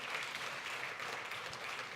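Audience applause welcoming a guest panelist at an accountancy profession round-table event in Monaco, a steady dense wash of clapping across the whole moment, moderately loud and even, with no voices standing out.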